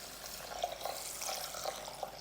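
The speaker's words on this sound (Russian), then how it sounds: "Для начала мы заливаем рис водой." Water pours steadily over rice in a container with a soft splashing, trickling texture, fairly close and quiet, with no voices.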